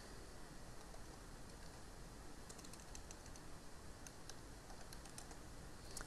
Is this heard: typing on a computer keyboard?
yes